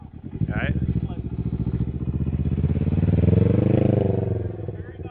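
Can-Am Ryker fitted with an aftermarket exhaust revs for about five seconds, a loud, close, throaty engine note that swells and falls with rapid pulsing, while people talk over it.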